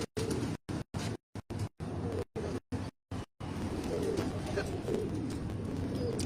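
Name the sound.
pigeons cooing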